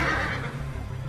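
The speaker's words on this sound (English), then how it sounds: "Monsters sound like horses" A monster in the Parasite Eve video game gives a horselike neigh, a loud, close whinny that wavers briefly and fades over about a second.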